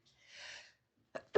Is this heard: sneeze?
yes